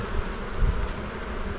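Honeybees at the hive hum in a dense, continuous swarm drone, close and steady throughout with no gaps, and no voices over it.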